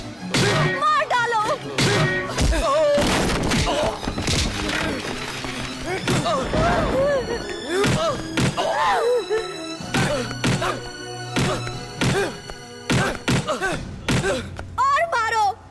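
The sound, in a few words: blows in a film fight beating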